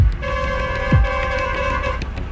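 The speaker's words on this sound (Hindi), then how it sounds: "चलो ओए हॉर्न बजाइयो 3 बार" A truck horn blares during a rope tug-of-war between a truck and a JCB. It gives a loud, sustained honk with a brief break partway through, over a low engine rumble.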